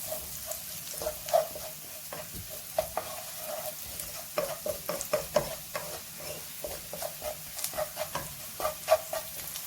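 Turmeric and coriander powder fry briefly in hot oil, with a low continuous sizzle under frequent quick stirring taps and scrapes of a utensil against the pan, close by.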